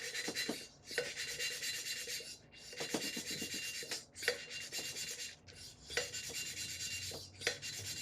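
A Neway hand seat cutter grinds a valve seat in a 2008 Acura MDX cylinder head, giving repeated raspy scraping strokes in steady bursts, close up and alone.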